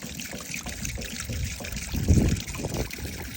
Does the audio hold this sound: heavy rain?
no